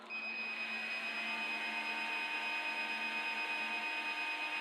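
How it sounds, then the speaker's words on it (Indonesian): An electric blower runs steadily on a 2kW off-grid inverter with a faint, even motor whine and a constant high tone, unchanging from start to finish. "Kemudian kita nyalakan beban blower."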